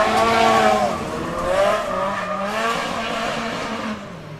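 Drift car on a wet qualifying run at the British Drift Championships, Teesside, engine wailing and bouncing in pitch through the slide with tire hiss, loud at first then easing.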